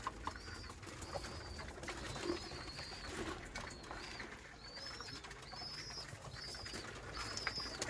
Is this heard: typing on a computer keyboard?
no